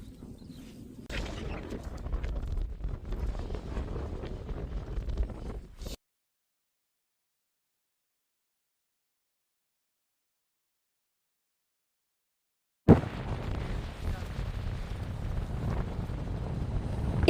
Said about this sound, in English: It was so windy up here,